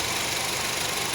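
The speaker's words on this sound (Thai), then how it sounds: "ปิดแอร์นี่คือเสียงเครื่องยนต์ค่ะ" A 2013 Honda Accord engine idling with the air conditioning switched off, a steady even hum with broad hiss and no talking.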